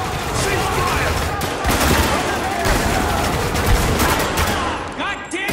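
Sustained bursts of automatic gunfire and overlapping shots in the Spec Ops: The Line video game fill the scene. The firing is loud and continuous, with shouted voices mixed into the combat.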